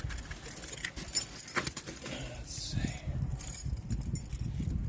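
Car keys jangle repeatedly in bursts near a 2001 Toyota Camry during power steering belt work, with bright metallic clinking over a low background rumble.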